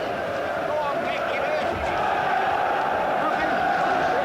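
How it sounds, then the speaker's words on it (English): A boxing arena crowd at the Scott Welch vs Michael Murray fight keeps up a continuous rumbling roar with rising cheers. A commentator talks over it throughout. "This is starting to get the crowd going now."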